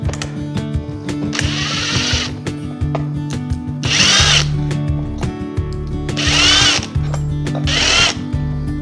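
A power drill drives screws into drywall in four short, loud, close bursts of whirring separated by brief pauses, over a faint steady background hum.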